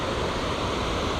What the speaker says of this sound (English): Look at that water rushing through it.